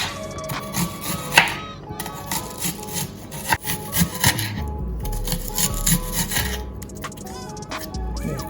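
Vegetables cut for seasoning for baked beans and saltfish on a board, irregular knife knocks and scraping strokes on wood, close and fairly loud, with no talk.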